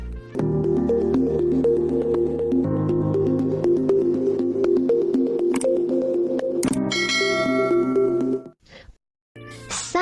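A bright notification bell sound effect rings out loud and alone as a repeating melodic chime sequence, shifting to a higher flourish before briefly cutting out near the end.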